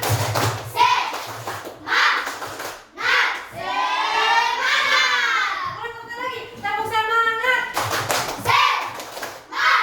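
Schoolchildren in an Indonesian primary classroom do a rhythmic 'tepuk semangat' clapping chant, bursts of patterned claps alternating with sung and chanted children's voices, close and lively, with a teacher's voice nearby.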